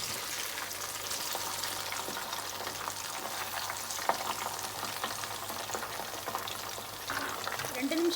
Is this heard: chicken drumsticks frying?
yes